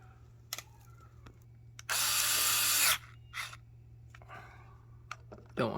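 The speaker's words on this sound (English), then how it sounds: "I'm going to finish them with the electric screwdriver" An electric screwdriver drives the cover screws on an old Briggs & Stratton small engine in one steady, loud whir of about a second, framed by light clicks and handling taps nearby.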